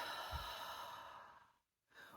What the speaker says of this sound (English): It could be taking a deep breath in,